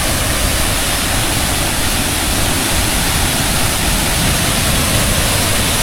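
Gundichaghagi waterfall in Keonjhar roars as a dense, steady wash of loud broadband noise, unbroken for the whole stretch, with no voices over it.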